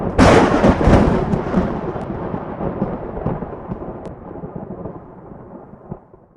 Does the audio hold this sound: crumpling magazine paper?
no